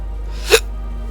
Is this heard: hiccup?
yes